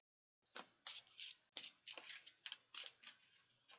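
Tarot and playing cards are shuffled by hand, a close, soft run of crisp riffling bursts in quick irregular rhythm, with no talking.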